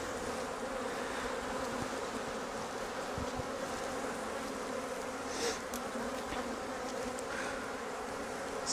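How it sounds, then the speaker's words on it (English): Honey bees buzz steadily and densely at close range around an open hive during a Flow Hive split, a continuous droning swarm with a few individual bees passing nearer, and no talk. "So all the bees we've shaken off have just come onto this comb."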